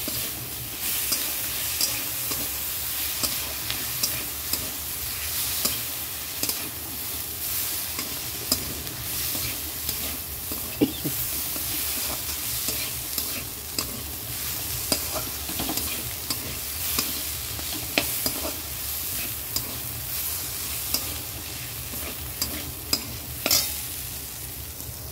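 Ginger paste, garlic paste and green chili masala fry in a pan with a loud, continuous close sizzle, broken by scattered scraping clicks of stirring, and no voices.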